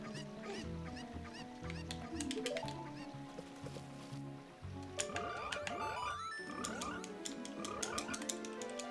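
Frogs croak in the Ocarina of Time video game, a busy chorus of repeated croaks and rising musical chirps over background game music. It is moderately loud and continuous, with a short drop in the middle.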